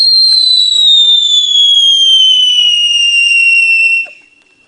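Birthday fireworks screaming loudly, a single sustained high whistle that slowly falls in pitch for about four seconds before cutting off, with faint crackles beneath.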